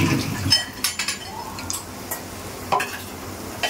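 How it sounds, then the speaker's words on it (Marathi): Green masala paste being stirred in a cooking pot for a prawn khengat, with close scraping and clinking of utensil against metal, a few sharp clatters, and faint sizzling underneath. "छान मिक्स करून घेणार आहोत"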